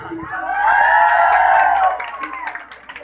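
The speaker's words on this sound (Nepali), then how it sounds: "उहाँको लागि एउटा जोरदार ताली" Applause and cheering from a village audience celebrating winning local election candidates at a comedy event, a dense swelling roar of claps and shouts that peaks and then fades.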